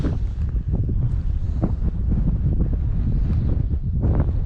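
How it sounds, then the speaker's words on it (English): Wind gusts outdoors beside a river in winter, roaring loudly into the microphone as steady buffeting rumble with rising and falling surges and no voices. "Wind is picking up."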